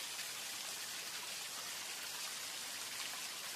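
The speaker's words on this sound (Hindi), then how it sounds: "ऊपर से यह बारिश बहुत तेजी से हो रहा है" Dense, steady hiss of rain pouring down, constant and even throughout, with no voices.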